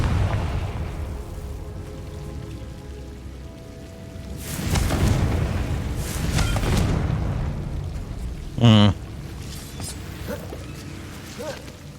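Fiery blast spell detonating in a wizard video game, heard as rumbling booms that swell midway and a sharp whooshing burst near the end, over a steady rain-like game ambience.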